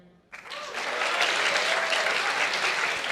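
Applause from a comedy contest audience answering a show-of-hands question, bursting in after a brief voice and holding as a full, even wash of clapping to the end.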